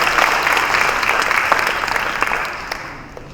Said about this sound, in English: Get another round of applause for Mr. Jim Shaner.